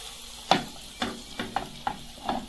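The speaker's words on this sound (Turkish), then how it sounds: "Şimdi tereyağımızı tavamıza alalım. Tereyağımız erisin." Butter melts in a frying pan before French toast is cooked. It makes a soft, continuous sizzle broken by several distinct taps and scrapes from the pan at a slow, uneven pace.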